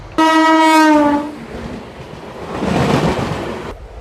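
The Guntur-Rayagada Express sounds a loud, sustained horn blast up close, then rumbles in with a broad rushing roar of wheels and carriages that swells and fades.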